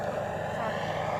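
E-Flite T-28 Trojan RC airplane flying overhead, a steady, continuous engine drone that holds an even loudness throughout with no breaks, sounding much like a full-size propeller plane.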